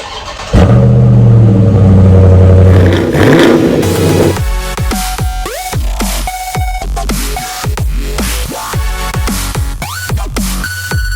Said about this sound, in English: You got to have a cold start as you're headed out.